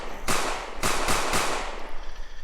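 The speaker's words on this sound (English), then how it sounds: "when we fire a pistol, we have an animation, we have a particle effect, we have a sound effect" A pistol sound effect from a bank-heist video game: four sharp, loud shots in quick succession, the last ones close together, each followed by a short decaying tail.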